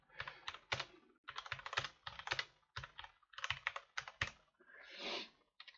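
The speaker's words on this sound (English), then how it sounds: "Typing, well, you really will hear that clanging." Fast clattering typing on a loud Corsair computer keyboard, close and prominent, with bursts of sharp key clacks separated by brief pauses and no talking.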